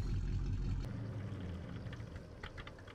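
A truck's idling engine in Farming Simulator 17 rumbles low and steady for under a second, then cuts out, leaving a faint, quieter background hum.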